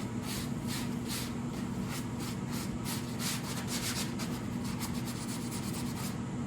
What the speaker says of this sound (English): I'm going to use this sanding pad to go along the edge again.